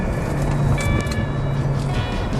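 Loud, rumbling turbocharged five-cylinder engine roar from a Volvo C30 T5, with heavy low-end drone and a rising whine on top, sustained as the car pulls hard.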